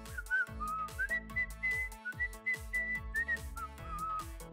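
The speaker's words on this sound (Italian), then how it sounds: "Mi avete sentito fischiare?" A person whistling a bouncy melody in short repeated phrases over an upbeat musical backing, clear and close.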